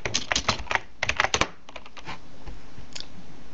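Typing on a computer keyboard, close and clear rapid key clicks in quick flurries that thin out into a few scattered taps, with no talk.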